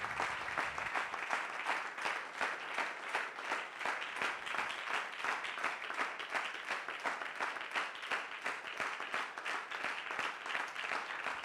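A church congregation applauds for the Lord with steady, dense clapping that holds at an even level throughout, with no speech on top.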